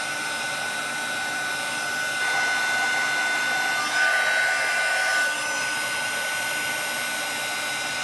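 A heat gun blows with a steady, airy whooshing hiss while heating embossing powder, its level swelling slightly midway, close and continuous with no talking.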